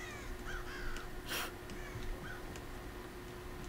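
Crow in the game Thief giving several hoarse caws spaced apart over low ambient hum, with a sharp noisy burst in between.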